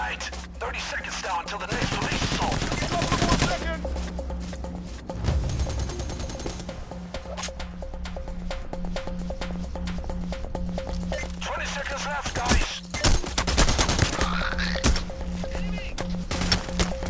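Gunfire rattles through PAYDAY: The Heist in repeated bursts and crackling volleys over a busy game soundscape, heaviest near the start and again later, with players talking throughout.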